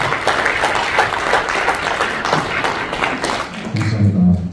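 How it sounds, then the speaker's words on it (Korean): An audience at a civic forum and press conference claps steadily in a dense burst of applause, with a few thumps and low murmuring creeping in as it fades toward the end. "박수 한번 보내주시면 감사합니다."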